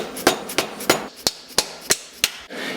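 Sharp metallic taps strike in a steady rhythm, about eight in under three seconds, as a swing arm bolt is driven through from right to left on a 1999 KX250 two-stroke motorcycle rebuild, close and alone.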